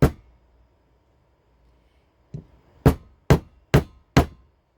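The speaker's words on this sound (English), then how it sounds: "If you nail them in about 1/4 of an inch" A hammer drives nails into a wooden board for leaf string art: one strike, a lone tap, then four sharp, evenly spaced blows close by with no talking.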